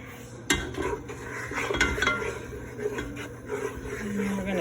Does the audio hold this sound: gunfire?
no